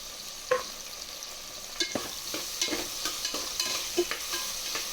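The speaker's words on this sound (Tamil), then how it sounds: "தக்காளி நல்லா வதங்கட்டும்" Tomatoes sautéing with shallots in a pan for a country chicken curry, a steady sizzle throughout with repeated scraping stirs every second or so.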